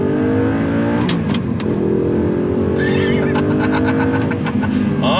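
A 2009 Audi R8 with a six-speed manual accelerating hard from inside the cabin, its engine note climbing loud and continuous with rising harmonics, plus a few sharp clicks and knocks over the roar.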